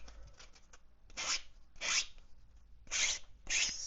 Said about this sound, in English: I am going to quickly sand off the holes